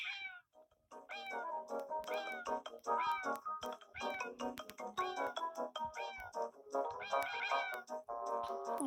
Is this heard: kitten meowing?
yes